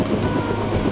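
A helicopter in the video game Deus Ex gives off a steady rotor thump and engine drone, loud and close, with a rapid rhythmic chop running through the brief moment.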